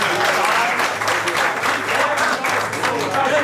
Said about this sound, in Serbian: taj Dejan aplauz